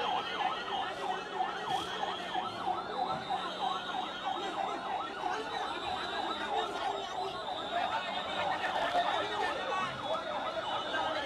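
A fire service vehicle's siren wails continuously at a market fire, rising and falling in rapid repeated sweeps, moderately distant, over a murmur of crowd voices and traffic.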